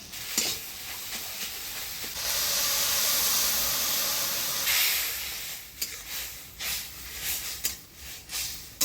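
Water poured into a hot pan of fish roe and jute leaves fried together, a loud rush of hissing steam that swells for a few seconds, then fades into scattered bubbling and spatula scrapes.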